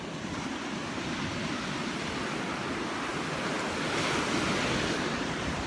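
Ocean surf rushing steadily on the North Carolina coast, a broad continuous wash of waves with wind noise on the microphone, swelling slightly toward the end.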